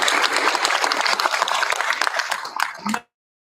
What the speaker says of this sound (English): One last round of applause for our middle